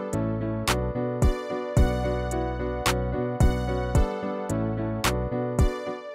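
A loud 8-bar loop made with Songen music software, steady beat-driven electronic pattern with punchy repeated hits about every half second over sustained bass and chords, playing alone with no voices.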